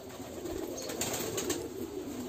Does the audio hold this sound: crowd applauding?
no